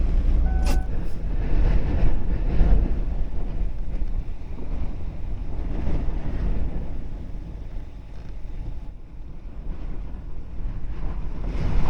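Strong wind gusting and blowing sand around a small camper van in open country, a loud, steady roar buffeting the microphone throughout with no voices.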